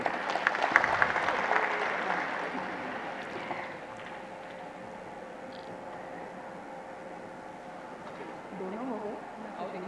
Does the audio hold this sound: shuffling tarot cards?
no